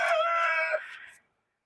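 A rooster crows once, close and loud, a bright drawn-out cock-a-doodle-doo that fades out after about a second.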